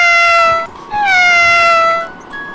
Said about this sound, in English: This animal is cat.